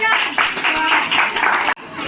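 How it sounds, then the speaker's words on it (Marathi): A crowd at a neighbourhood fancy dress competition claps in a dense burst after a prize announcement, loud and near, mixed with chatter and children's voices, cutting off sharply then resuming. "जोरदार टाळ्या वाजवा"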